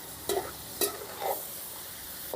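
Mutton pieces tossed with spices in a pan, giving three scraping stir strokes over a steady low sizzle, fairly close and with no talking.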